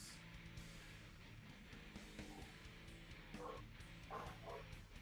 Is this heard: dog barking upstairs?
yes